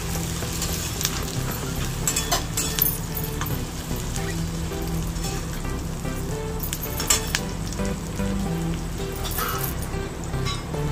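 Chopped onion and dried red chilies fry in hot oil in a pan, giving a steady close sizzle with occasional clinks of a utensil against the pan.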